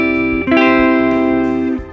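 Electric guitar played through a Hotone Ampero One multi-effects unit with hall reverb, a sustained loud chord ringing alone with a long, spacious reverb tail.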